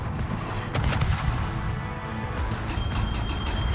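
Cassard warship's naval guns fire in a video game battle, a dense rapid run of booming shots and crackling impacts layered over a constant low rumble, loud and close throughout.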